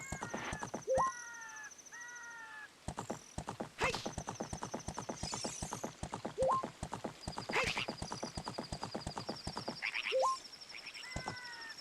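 A horse in an Ocarina of Time randomizer game makes frog-like croaks in place of neighs, with steady clip-clop hoofbeats trotting throughout and repeated chirpy whinny-croak calls, no talking.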